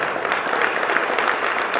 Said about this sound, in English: A round of applause for silver level